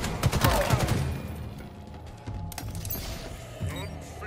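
Rapid automatic weapon fire in Halo Infinite opens loud and dense, then drops back to sparser distant shots and game noise while a voice talks over it.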